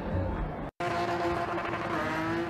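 A car spinning at a Northern Cape spinning event in Diamond City, its engine revving hard with screeching tires, loud and close, broken by one brief dropout before the roar resumes.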